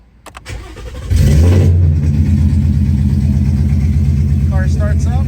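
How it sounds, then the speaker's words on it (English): A 2018 Ford Mustang GT with an always-on brake light fault cranks briefly, fires up loudly and settles into a deep, steady, burbling idle close by, with a short voice heard near the end. "Car starts up."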